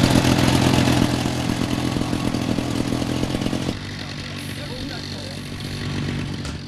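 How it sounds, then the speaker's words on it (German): The engine of a half-scale RAF SE5A model aircraft, an 85-kilogram replica, runs loud and steady close by, then drops to a lower, quieter drone partway through, with a voice talking over it. "Der Motor ist angelassen"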